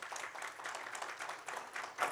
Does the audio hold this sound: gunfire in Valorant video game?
no